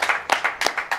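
Several separate claps cheer a performing artist at a music event, sharp and close, coming in a loose rhythm of six or so over one second.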